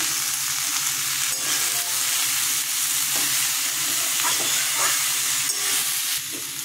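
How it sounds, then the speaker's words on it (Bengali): Raw jackfruit pieces with turmeric and salt sizzle in hot mustard oil in a pan, a steady crackling fry that fills the whole span, with occasional stirring knocks and no talk. "এঁচোড়টা ভাজা হয়ে গেছে"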